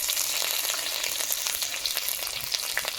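Dried red chillies, a bay leaf and radhuni spice sizzle in hot oil, a dense, continuous crackle and hiss close up, with no voices.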